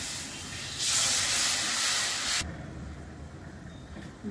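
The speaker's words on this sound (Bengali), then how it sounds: "মশলা হয়ে গেছে, জল দিচ্ছি।" Water poured onto hot fried masala in a pan for an egg curry bursts into a loud, broad steam hiss lasting about a second and a half, then cuts off to a quiet simmer.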